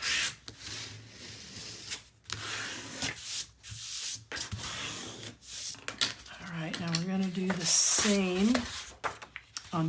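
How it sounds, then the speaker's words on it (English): A bone folder burnishes paper on a 10 x 9 x 2.5 inch handmade album, with repeated close rubbing and scraping strokes broken by short pauses, and a voice talks over the later strokes. "I'm going to turn it over and I'm going to give it a good old burnish"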